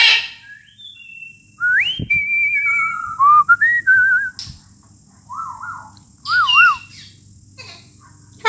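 A pet bird whistles a series of clear, tonal phrases, rising sweeps, warbles and short trills, loud and close, with brief pauses between bursts and no talking.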